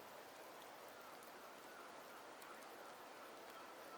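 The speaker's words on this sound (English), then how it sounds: "The rains in Septimont never seem eager to leave this season." Steady rain falls in the video game Wuthering Waves, a soft, even hiss of drops that continues unbroken and sounds fairly distant and quiet throughout.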